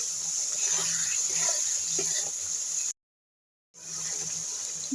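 Water from a spice bowl is poured into a pan of fried potatoes and spices, making a continuous hissing, splashing rush that cuts out briefly before resuming.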